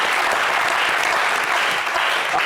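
A studio audience applauds a band on a French-language entertainment show, a dense, steady wash of many hands clapping at full volume throughout with a faint crowd murmur underneath.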